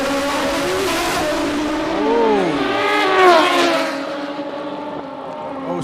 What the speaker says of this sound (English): Bring them in on those starting line rev limiters.